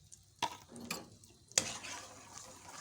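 Ginger garlic paste stirred into paya cooking in a pot, giving a few sharp spoon clinks against the metal over a steady sizzle of frying.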